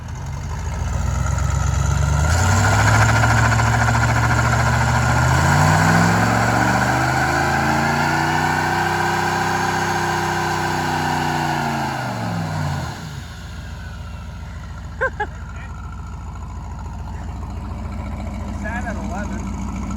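Turbocharged burnout car engine rising in pitch as it builds boost, a loud droning rev that swells and sweeps before dropping back to a rough idle, with people talking nearby.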